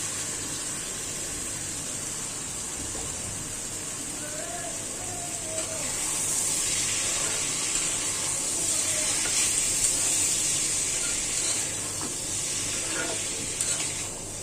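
Papaya pieces sizzle and fry in a pan with ginger, a steady hissing crackle that grows louder partway through, with stirring scrapes and someone talking over it.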